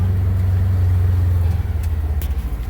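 Polaris Ranger Northstar UTV engine pulling in low gear on a wooded hillside, a steady loud low drone that turns choppy and pulsing partway through, with no talk.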